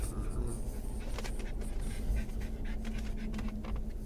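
A dog pants loudly and rapidly indoors, heavy rhythmic breaths close to the microphone, continuing steadily with faint background noise.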